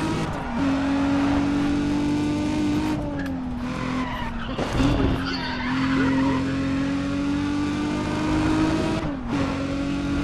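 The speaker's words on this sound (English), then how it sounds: "Listen to that tire squeal, man." Tires squeal loudly and steadily on a 350Z racing car in Need for Speed ProStreet, a sustained skid over a droning engine note that dips briefly before resuming, with no talk.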